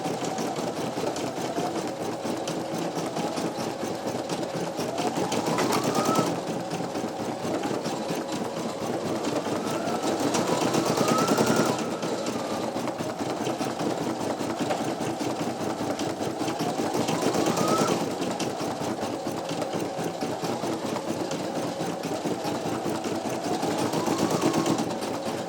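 A home embroidery machine, a Brother PE900 or NQ1700E, stitches out a design with a steady, fast mechanical chatter and hum, its pitch rising and sweeping every few seconds as the hoop moves, continuous and close.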